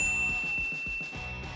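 A bright notification-bell ding rings out clearly, a single chime with a long ringing tail, alone with no talk.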